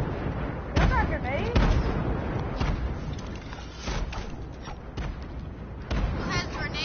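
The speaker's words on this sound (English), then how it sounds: "What's that grenade?" Grenade explosions in the Fortnite video game, a series of sharp thuds and bursts scattered through the clip over busy game noise, with players talking throughout.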